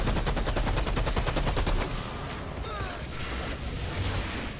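Rapid automatic gunfire during a boss battle in the shooter game Outriders, a dense close burst for about two seconds that then gives way to a lower, busier battle din.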